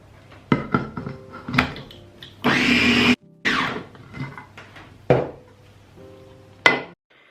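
Almond flour flatbread batter is mixed in a bowl with a utensil, making close clinks, taps and scraping strokes at an irregular rhythm. One longer, steady scrape stands out partway through, and no one speaks.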